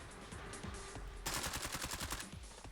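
A suppressed IWI Galil Ace rifle in Fallout 4 fires a rapid burst of muffled, evenly spaced shots over a faint game ambience. The volley starts abruptly partway in and runs to the end without talking.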